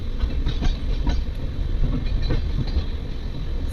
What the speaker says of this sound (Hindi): Parallel departure with Ranikhet express.